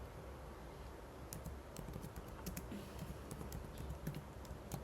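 Code in C++ being typed on a computer keyboard, a steady stream of light, quick key clicks in uneven bursts, close but quiet, with no talking.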